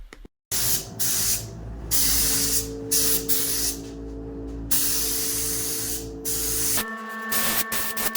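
A spray gun lays U-Pol UP2802 clear coat onto a damaged fairing from a 1981 CBX1000 resto-mod motorcycle: a loud, close, steady hiss in long passes broken by short pauses, with a faint hum underneath.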